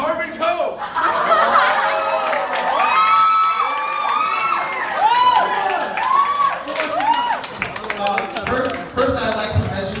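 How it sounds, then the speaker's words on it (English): Wedding guests in a lively crowd cheer, whoop and laugh loudly with clapping mixed in, a sustained, bright burst of celebration lasting about ten seconds. "So please, a huge round of applause for Mr. Garvin Coe."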